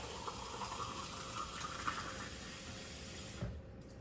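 Steady rushing of tap water pouring into a can, a continuous broadband hiss that cuts off abruptly near the end, with no voices.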